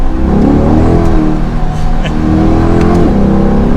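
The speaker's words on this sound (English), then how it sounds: "let's do a fourth gear acceleration from 50" A 2022 Chevrolet Corvette C8 convertible engine revs up hard accelerating in fourth gear from 50, its pitch climbing steadily and loudly, with a brief drop around a gear change, no talking over it.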